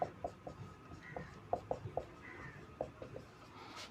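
Pen or pencil writing out a Class 10 maths solution by hand, with soft scratchy strokes and sharp taps in an uneven rhythm, fairly quiet and close, with no talking.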